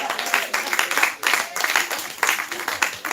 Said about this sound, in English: Give a clap again, man.